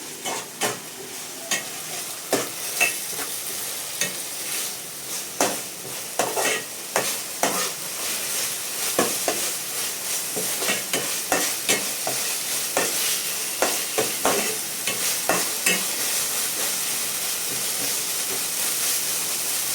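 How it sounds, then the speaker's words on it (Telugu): Ginger garlic paste fries steadily in a pan for bagara rice, a continuous close sizzle and hiss broken by repeated sharp scraping taps of a spoon stirring, with no talking. "ఇప్పుడు మనకు అల్లం వెల్లుల్లి పేస్ట్ ఉడక పచ్చి వాసన పోయేంత వరకు బాగా మనం ఫ్రై చేయాలి"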